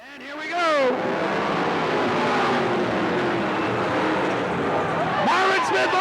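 Race cars at Cottage Grove Speedway roar past, their engine whines sweeping up and down in pitch. A loud, continuous racing drone carries on under a commentator's voice.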